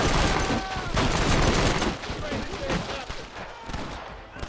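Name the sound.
gunfire in video game Red Dead Redemption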